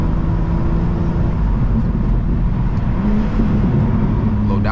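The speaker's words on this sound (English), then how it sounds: "Little downshift in the tunnel." A BMW M2 downshifts inside a tunnel, its loud engine drone booming and reverberating steadily close by, with a brief rise in pitch as the revs change and no talking.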